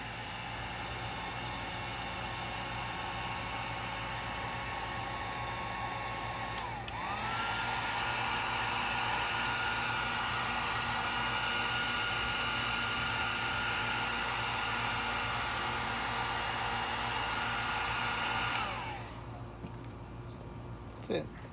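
A heat gun blows a steady, loud broadband hiss over wire connections during a radio install in a 1998 Toyota 4Runner; its tone shifts midway and the airflow cuts off near the end, with a voice speaking underneath.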